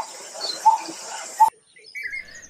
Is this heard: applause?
no